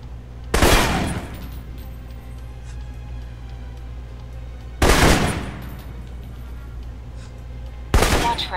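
Three separate bursts of assault rifle fire in the video game Alpha Protocol during basic training, each a short loud volley spaced a few seconds apart over a low steady hum.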